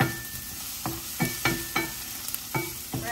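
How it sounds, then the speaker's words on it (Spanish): Red onion frying in a pot that was used to fry plantains, with a steady background sizzle and several sharp stirring scrapes and clacks spaced through it. "Voy a dejar que se dore un poquito bien la cebollita"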